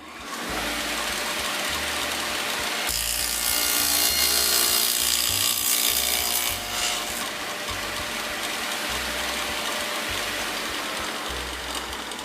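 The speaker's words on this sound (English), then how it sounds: "There's a dado cut." A saw blade cuts a dado in scrap wood, a loud, steady whining tool drone that swells into a brighter, harsher cutting roar for a few seconds mid-way before settling back, close and without talk.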